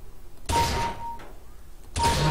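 Two gunshots fired during aim training in CS:GO, each a sharp, loud crack with a short decaying tail, the pair spaced about a second and a half apart, with no talking.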